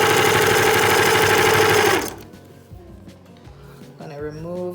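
A sewing machine runs fast and loud through t-shirt fabric for about two seconds, then stops abruptly; someone speaks afterward.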